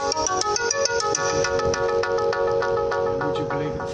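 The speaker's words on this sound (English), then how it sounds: "Would you believe it, the phone goes off" A phone rings during a home workout session, its repeating electronic tone pulsing steadily over several seconds against a busy tonal background, fairly loud and close.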